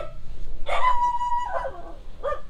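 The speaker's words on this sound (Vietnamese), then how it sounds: "Ôi, có một con chó nó sủa rất là to." A dog barks loudly near the Phú Tự communal temple in Vietnam's Mekong Delta: a drawn-out, whining bark followed by a shorter yelp, close by over low background noise.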